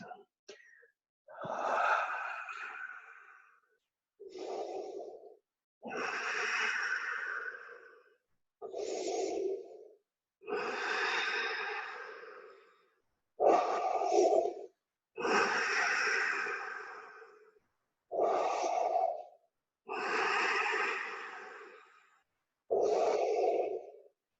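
Slow, deep breaths during a yoga session, about ten long audible inhales and exhales in a steady rhythm, close and clear, each breath followed by a short silence.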